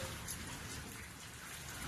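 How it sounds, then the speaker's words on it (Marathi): Heavy, warm rain pours down in a dense, continuous hiss of drops striking surfaces, steady and enveloping for a couple of seconds. "गरम पाऊस पडायला लागलाय"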